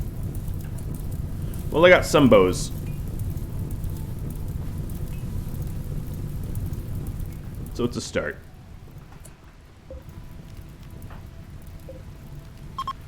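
Steady rain hiss from the video game RimWorld runs throughout at moderate level, with someone talking briefly over it and no distinct thunderclap.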